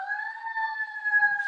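An emergency siren holds a steady, sustained wailing tone at moderate loudness, sounding alone and unbroken throughout.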